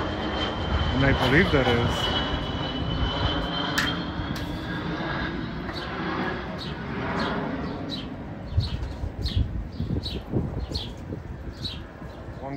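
A NetJets Cessna 700 Citation Longitude business jet's engines whine and roar as it passes during afternoon plane spotting at Chicago Midway. The jet noise holds steady while people talk nearby and birds chirp faintly.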